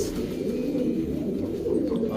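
Soft, low pigeon-like cooing that continues steadily through the whole stretch, close by, with no talking.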